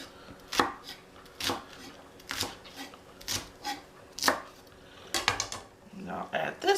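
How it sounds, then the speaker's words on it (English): A knife cuts rolled food into thin little strips, giving a run of sharp, distinct chops on a board at an uneven pace, close and clear, with faint soft speech in the background. "And then I cut it all the way down. Little bitty strips."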